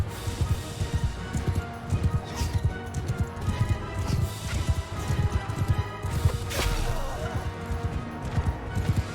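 A horse gallops in the video game Mount and Blade Bannerlord. Its hooves pound in a fast, steady rhythm that stays close and loud over the din of battle.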